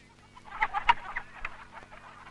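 Chickens cluck at a chicken shop, several busy overlapping clucks and squawks close by with a faint hum underneath and no talking.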